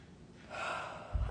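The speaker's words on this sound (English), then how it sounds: "Deep breath in." A single deep inhalation drawn in slowly through the nose or mouth, close and quiet, swelling to a soft peak and ending with a brief breathy push, no speech.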